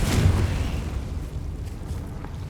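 A Confringo blasting spell explodes in Hogwarts Legacy, a loud close boom at the start that rumbles and fades into a low roaring tail over the next couple of seconds.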